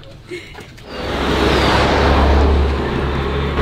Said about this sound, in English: you might have heard cars going by while we were talking